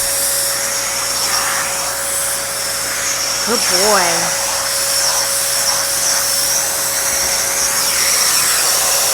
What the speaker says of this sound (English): Let's finish vacuuming the kitty.